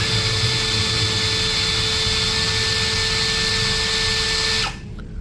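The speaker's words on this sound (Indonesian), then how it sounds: "Ini modenya mode drilling ya teman-teman." A GTools GT04 cordless brushless drill in drilling mode spins at low speed with a steady, close, high motor whine, then winds down and stops near the end.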